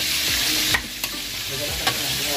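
Steady, loud sizzling of food frying in a pan, with a few soft scraping stirs and clinks breaking the hiss, before tomatoes are added.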